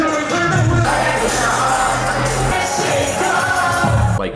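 A rap concert crowd shouts and cheers loudly over booming music, the noise staying dense and steady throughout.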